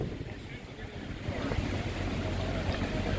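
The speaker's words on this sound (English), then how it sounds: "the wind's starting to perk up. The flags are flagging and tarps are flapping too" Wind gusting outdoors at a fall swap meet in Barrie, a broad steady rush with low buffeting; distinct flag or tarp flapping is not clearly separable.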